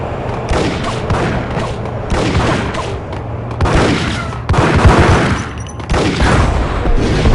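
Sustained gunfire fills a Max Payne shootout, dense overlapping shots and heavy booms rolling on for several seconds with surges of louder bursts.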